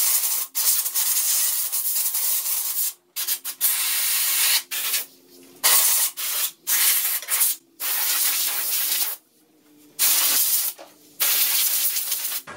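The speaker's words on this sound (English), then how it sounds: "I got to blow a little air in there and blow the sawdust out" Bursts of compressed air blow sawdust out of a Craftsman saw. Loud, broadband hissing blasts of varying length come close together, separated by short gaps.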